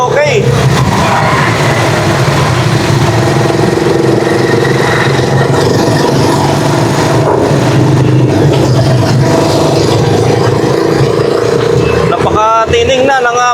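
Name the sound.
tricycle engine running smoothly after a tune-up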